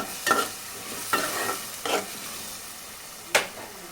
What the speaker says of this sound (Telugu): కొత్తిమీర తరుగు కూడా వేసుకొని అంతా ఇలా ఒకసారి కలిపి